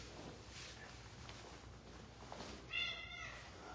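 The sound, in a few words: house cat meowing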